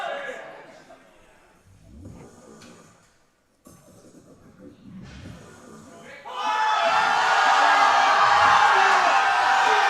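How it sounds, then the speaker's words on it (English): At the 2024 CPU Western Championships powerlifting meet, an announcer talks over a quiet hall before a crowd breaks into loud, sustained applause and cheering for a woman's 405-pound record lift, filling the second half. "Give her a round of applause"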